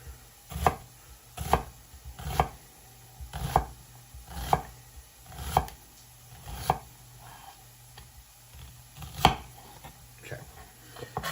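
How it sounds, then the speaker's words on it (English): Knife chopping vegetables on a cutting board while preparing spaghetti sauce: about a dozen distinct, evenly spaced thuds roughly one second apart, close and moderately soft, with no talking. "Just kind of making the cuts along the lines there as well."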